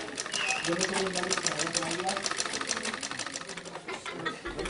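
Sewing machines in a sewing workshop where girls make their own clothes run with a fast, steady mechanical chatter of needle strokes, close and loud throughout, while a voice talks over them.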